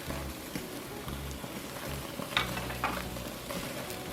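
A tri tip roast sears on a hot grill with a quiet, steady sizzle, over low rumbling background noise and a couple of short clinks or scrapes.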